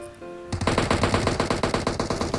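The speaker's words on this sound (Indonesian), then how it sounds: "Ada yang nembak, ada yang nembak." Rapid automatic gunfire in the mobile battle-royale game PUBG Mobile: a loud, close burst of evenly spaced shots that starts abruptly and keeps firing without pause for about two seconds.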